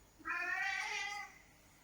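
A single cat gives one drawn-out meow lasting about a second, fairly close and clear against a quiet room.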